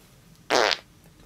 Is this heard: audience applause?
no